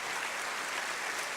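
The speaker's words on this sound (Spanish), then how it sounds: "Démosle un fuerte aplauso a este tremendo hombre de Dios" Applause rises for a pastor at a Filadelfia church service, a steady dense wash of clapping from a congregation, moderately loud and even throughout the short stretch.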